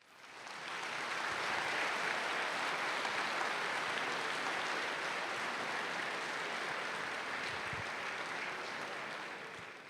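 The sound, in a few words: applause for graduating students at prom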